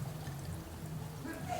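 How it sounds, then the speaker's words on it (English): Ginger ale is poured into a glass with lemon: a low, steady pouring gurgle, quiet and close, with a brief brighter trickle near the end. "And I'll start by pouring in just a slight amount of the ginger ale"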